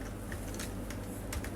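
Quick, light keystrokes on a computer keyboard tap in a short irregular burst, close and fairly quiet with no talking.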